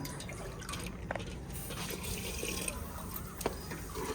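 Water pours steadily into a cooking pot for rice, a continuous close splashing wash that runs for the whole few seconds with no voices.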